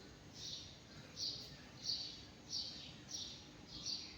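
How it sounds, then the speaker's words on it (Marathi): Sparrows chirp faintly in the distance, short tweets repeating at a steady pace over quiet background hum. "आणि मस्त असा चिमण्यांचा आवाज"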